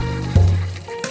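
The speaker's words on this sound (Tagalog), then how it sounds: "Lalagyan lang po siya ng tubig na mainit." A burst of hot water poured into a container, with a low bubbling rush starting abruptly and tapering off, close by and fairly loud.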